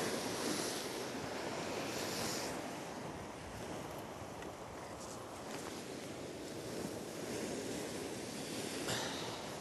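Steady wind roars and waves wash on a shore during windy rod fishing on the coast of Azerbaijan. The broadband rush is continuous and fairly loud, with occasional gusts buffeting the microphone.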